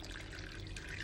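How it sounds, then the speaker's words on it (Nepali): Hot water pours steadily into a cooking pot for a Chinese soup, a continuous close splashing rush that holds through the whole brief moment with no voices. "पानी हालेर यसलाई 5 मिनट जति बोइल गर्छु।"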